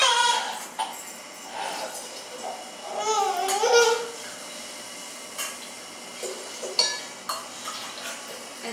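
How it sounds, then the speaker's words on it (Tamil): Water poured from a tumbler into soaked rice in a cooking pot for sweet pongal, a few splashing gushes with light clinks of utensils, close by, with some soft voice in the background. "ரெண்டு டம்ளர் அரிசிக்கு இப்போ நாலு டம்ளர் அளவுக்கு தண்ணி ஊற்றிக்கலாம்."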